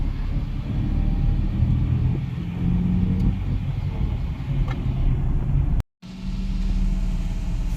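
A Tata Nano car drives along with a continuous, fairly loud engine and road rumble, broken once by a brief total dropout in the sound before the steady drone resumes.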